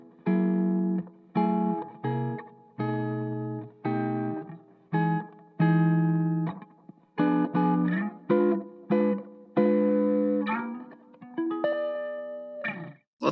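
An electric guitar run through a reverb effect on a PolyEffects Beebo pedal plays a series of separate ringing notes and chords. Each rings out with a soft decaying tail, and the passage ends in a denser sustained strum.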